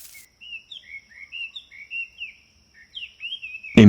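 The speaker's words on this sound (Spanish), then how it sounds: "Los pájaros cantaban en los árboles" Birds singing in trees on the Kruger savanna, a series of short, clear chirps and whistled phrases in quick succession at moderate distance, ending with a brief loud thump.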